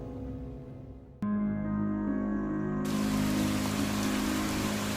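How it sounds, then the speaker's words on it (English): Heavy pouring rain beats down steadily and loudly, a dense continuous hiss with no voices over it, starting abruptly after a brief quieter patch. "as you can see, it is pouring rain again"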